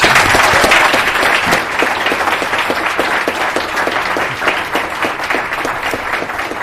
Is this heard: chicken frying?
no